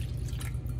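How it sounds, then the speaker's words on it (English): Warm water pours into a mixing bowl for homemade pizza dough, a close, steady trickling splash under a low hum, with no voices. "So then we have our, says to add 2 cups of warm water."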